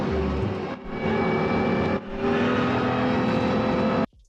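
Modded car in Need for Speed Most Wanted with a steady high differential whine riding over continuous engine drone, briefly dipping twice before cutting off abruptly near the end.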